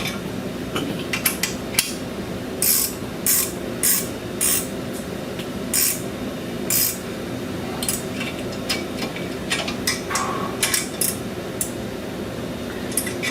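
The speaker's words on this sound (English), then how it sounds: "Go ahead and tighten the U-bolt up the rest of the way." A ratchet tightens a U-bolt during an Air Lift 2K airbag suspension install, giving a run of sharp, close metallic clicks and rasping bursts in uneven spurts over a steady low background hum.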